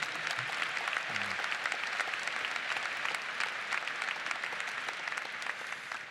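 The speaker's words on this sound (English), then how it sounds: "Would you give him a round of applause?" A winter commencement crowd at Ball State University applauds the university president with sustained, dense clapping from many hands, steady and fairly loud throughout, with a brief low voice near the start.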